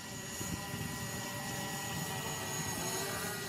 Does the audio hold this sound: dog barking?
no